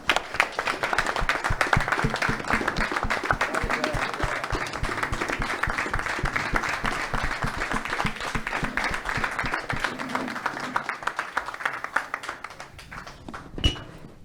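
A standing audience gives a long, loud round of applause at a gathering honouring Libertadores veterans, with dense rhythmic clapping that thins to scattered claps near the end.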